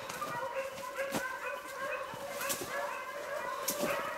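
Beagles working a rabbit in Ohio give continuous, layered baying, with sharp yips and barks punctuating the howling chorus from a pack ranging fairly close.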